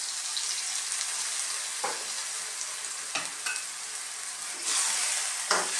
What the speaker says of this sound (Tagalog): Haluin po natin. So, isi-simmer po natin siya hanggang maluto.